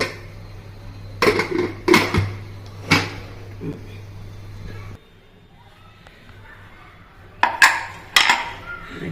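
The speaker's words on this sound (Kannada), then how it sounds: "ಈಗ ಲಿಡ್ ಕ್ಲೋಸ್ ಮಾಡಿ" Several sharp metallic clanks of a lid being set and closed on a cooking pot, in two bursts separated by a quiet stretch.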